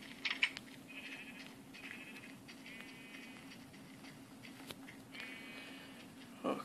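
Sheep in the video game Survivalcraft give several faint, wavering bleats at intervals over a quiet low hum, with a few soft clicks in between.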